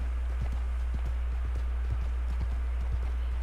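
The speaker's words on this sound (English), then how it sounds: "there must be a huge amount of horses around" Horse hooves clip-clopping in Red Dead Redemption 2 near Armadillo, a steady rapid trotting rhythm of soft thuds over a constant low rumble, with no talking.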